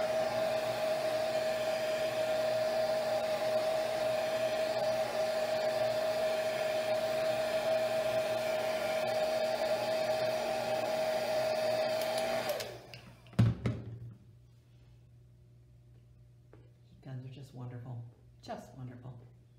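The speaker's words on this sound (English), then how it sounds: "since we're in a library, we happen to have a heat gun" A heat gun drying paint in a library painting class blows with a steady loud whine and whoosh for about twelve seconds, then cuts off abruptly, followed by a clunk and a person talking.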